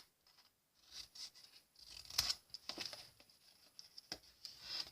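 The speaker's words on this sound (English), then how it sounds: "I'm going to cut that one off." Scissors snip through a paper square at a table while a triangular table favor is being made, giving a quiet run of short crisp cuts and rustles, close by with no talking.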